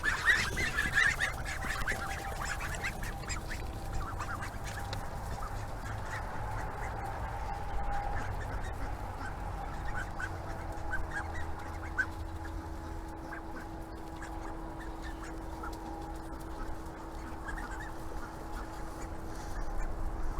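A crowd of ducks quacks and honks nonstop while being fed, a dense, busy flock chorus that holds steady throughout, with no one talking.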